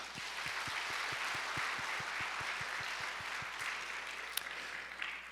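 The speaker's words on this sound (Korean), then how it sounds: "동산의 가족이 되신 분들에게 마음을 담아 박수로 환영하겠습니다" A church congregation at a Sunday morning service at Ansan Dongsan Church applauds to welcome new members, a soft, sustained patter of many hands with a steady rhythmic clap standing out over it.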